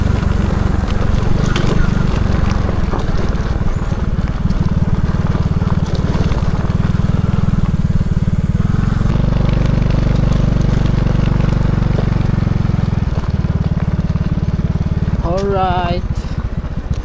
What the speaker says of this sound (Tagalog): Masayang magmotor.